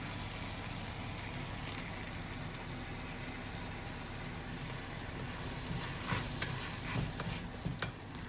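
Curry leaves and onions sizzling in hot oil in a pan for Kerala-style fish mango curry, a continuous crackling fry with occasional louder pops and stirring scrapes toward the end.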